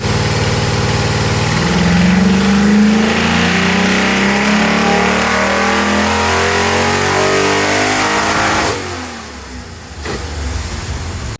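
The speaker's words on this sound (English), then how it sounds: "It runs a Holden ITB setup on a 308 and it sounds amazing." A Holden 308 V8 fitted with individual throttle bodies revs hard, its loud, throaty roar rising and holding for several seconds before dropping back toward a lumpy idle, close and alone.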